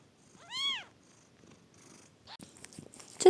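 Newborn kittens squeak in a single rising-and-falling cry near the start, with quieter rustling and small squeaks afterward, close and fairly faint.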